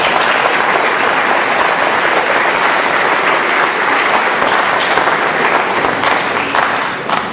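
An audience at a presentation on a flood prevention and stormwater mitigation program breaks into loud, sustained applause. The clapping stays dense and even throughout and thins slightly at the very end.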